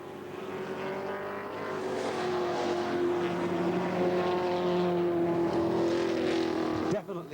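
V8 Thundersaloon race car, a Vauxhall Carlton or Stars & Stripes Manta at Brands Hatch in 1987, holds a steady loud engine drone with a rough, uneven misfire on the straight, under continuous commentary, ending with a brief dip and clatter.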